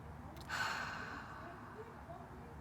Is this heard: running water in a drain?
no